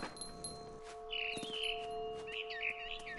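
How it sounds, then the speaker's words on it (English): A scared bird chirps in What Remains of Edith Finch, two quick warbling runs of bright tweets that are faint and heard against a steady humming game soundtrack. "Then I heard chirping outside my window."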